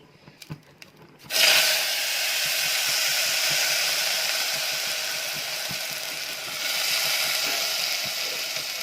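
Cracked wheat is tipped into hot ghee with cardamom and roasted. After a few quiet clicks, a loud, close hiss of frying bursts in and holds steady, swelling again near the end, with faint scraping of stirring and no voices.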